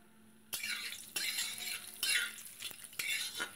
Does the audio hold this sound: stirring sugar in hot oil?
yes